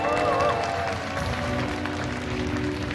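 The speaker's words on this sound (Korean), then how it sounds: "자, 이렇게 큰 박수 부탁드리겠습니다." An audience at the Game Esports Seoul 2024 awards ceremony applauds in a steady wash of clapping and crowd noise, with music playing underneath.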